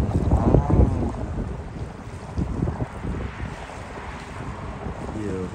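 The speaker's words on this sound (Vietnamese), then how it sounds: "Gió thổi phù phù." Wind blowing at the seaside on a Florida coast, heavy gusty buffeting that is loudest at the start and then settles into a steady rush, with a voice speaking briefly.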